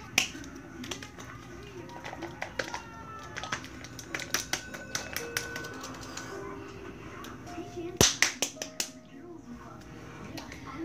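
Scattered hand claps ring out in a casual home setting, sharp isolated smacks at an uneven pace that bunch into a quick burst near the end, heard under ongoing family chatter.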